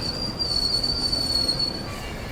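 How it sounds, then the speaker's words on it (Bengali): A train entering Kharagpur station gives a sustained high-pitched wheel squeal over a continuous rolling rumble, loud and steady throughout. "ট্রেন প্রবেশ করছে খড়গপুর স্টেশনে।"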